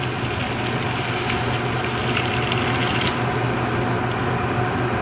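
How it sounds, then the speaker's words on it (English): Water pours steadily into mushroom concentrate in a home kitchen pot during Lunar New Year cooking, a continuous broadband splashing rush that stays loud and even throughout, with no talking. "And then add some water."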